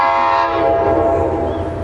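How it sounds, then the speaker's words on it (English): A Metro-North/NJ Transit commuter train on the Port Jervis line, hauled by a rebuilt GP40 locomotive, sounds its horn loud and close in one sustained chord-like blast while passing, fading slightly toward the end. "Another commuter train, I think."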